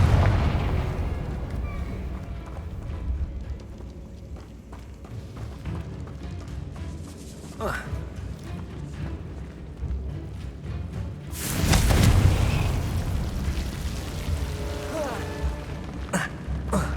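Confringo blasting-spell explosions in Hogwarts Legacy, with a loud, deep burst near the start and a bigger boom around two-thirds through, over a busy rumbling game soundscape with scattered cracks and whooshes.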